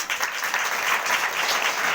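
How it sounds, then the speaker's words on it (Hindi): A church congregation at a Sunday morning service claps in a dense, sustained burst of applause that lasts about two seconds. "जोरदार ताली से धन्यवाद।"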